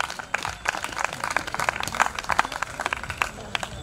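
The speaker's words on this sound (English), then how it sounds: "a round of applause" Scattered audience applause at a live event, uneven rapid clapping from a modest crowd with sharp individual claps standing out, moderately loud and continuing throughout.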